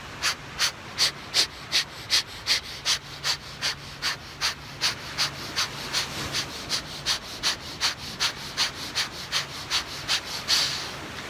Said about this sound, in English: We're gonna do 50 breaths.